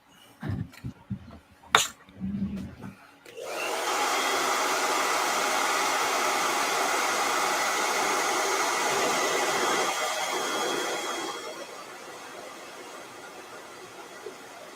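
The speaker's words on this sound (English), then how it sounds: "Let me hit this with a blow dryer." A handheld blow dryer switches on after a few clattering handling sounds and runs with a loud, steady whooshing roar for about eight seconds before cutting off.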